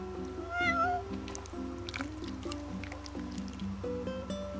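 A cat meows a few times in the video game Final Fantasy XV over a background of game music with wet squishy effects, and the meows are clear and fairly close.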